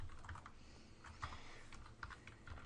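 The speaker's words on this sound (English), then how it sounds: "Type in the values that it gives us to do." Rapid keystrokes on a computer keyboard as values are entered into a spreadsheet, a quiet, steady run of clicks with a few louder taps, with no talking.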